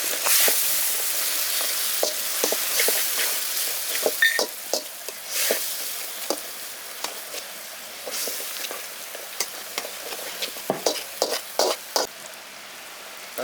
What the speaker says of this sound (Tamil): நல்லா அப்படியே சேர்த்து வதக்கிடுங்க.